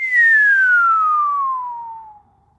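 A person whistles in open air without a tube, a smooth continuous glide from high pitch down to low that fades out after about two seconds, close and alone.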